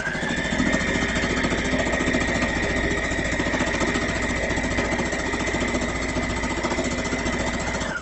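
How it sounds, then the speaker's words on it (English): Sewing machine running steadily while stitching an elastic waist skirt, a continuous fast mechanical whir and needle clatter that holds at an even level for the whole stretch with no talking. "Continue sewing."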